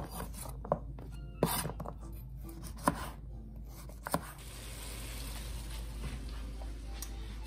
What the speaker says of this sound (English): it's really nice if you cut them on the bias like this